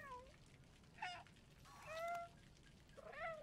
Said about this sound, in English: Can we get a meow?